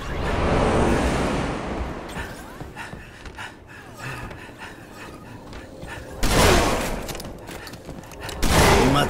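Shotgun blasts in Halo: Reach Infection mode, played on the Spooky Base map, come as loud bursts at the start and again near the end, with quieter game noise and scattered shots in between.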